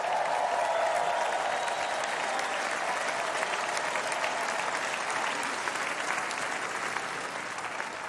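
A large crowd at a Republican party convention applauds steadily and loudly throughout, a dense wash of clapping and cheering with a faint voice underneath at the start.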